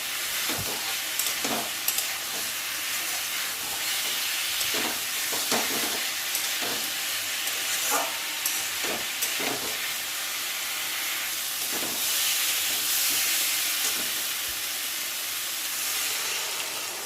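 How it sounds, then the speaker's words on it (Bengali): Spice masala with cumin and coriander powder frying in a pan, a steady dense sizzle broken by repeated scrapes and knocks of stirring, close and continuous. "দিয়ে আবারও মশলাটা ভালো করে কষাবো"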